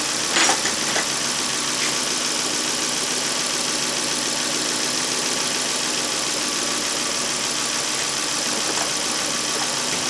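A Volvo S60 engine idles steadily with the coolant system open to purge air, a continuous close mechanical hum with faint ticking and no talking.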